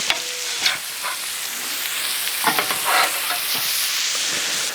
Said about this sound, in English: Let's get these patties on here